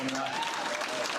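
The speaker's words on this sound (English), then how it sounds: "let's give him applause." Applause from an audience at a 2023 football-netball club awards night, a short burst of steady clapping with a voice speaking over it.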